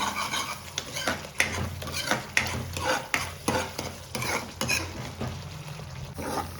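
A spoon stirs grated coconut in a pan to draw out its oil, making rhythmic scraping strokes about twice a second over a soft background sizzle, close and unaccompanied by speech.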